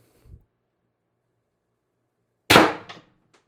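X-68 Storm Trooper blaster fires a single sharp test shot, a loud close crack with a short rattling tail after a faint click and near silence.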